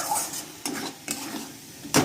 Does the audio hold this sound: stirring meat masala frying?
yes